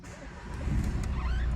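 A 2015 Renault Kadjar 1.5 dCi diesel engine starts, a low rumble building under the cabin and settling into a close, steady idle, with no one talking.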